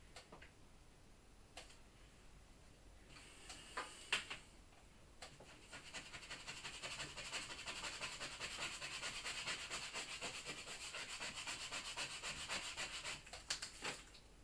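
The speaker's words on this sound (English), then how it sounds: "You can always go back over it with the scraper again." A scraper is drawn across a ScanNCut cutting mat to lift debris from the cut lines, making faint scratchy rubbing strokes with a few clicks, then a longer continuous scrape near the end.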